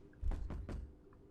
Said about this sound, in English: Stop knocking on my freaking door